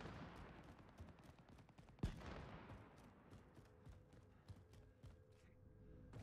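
Gunfire in the video game Warzone pops repeatedly in the distance, a scatter of faint sharp cracks with one louder report partway through, set against low background noise and no speech.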